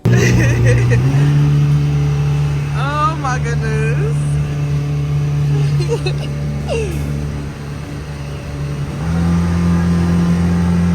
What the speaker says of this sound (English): Jet cars are not exclusive to this location, but I'm glad they had them available.